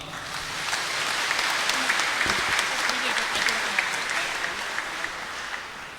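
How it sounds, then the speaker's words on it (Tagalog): A church congregation at a diocesan ordination Mass for a deacon gives loud, sustained applause, a dense continuous clatter of many hands filling the space for several seconds. "ato siyang tagaan sa makusog nga palakpak"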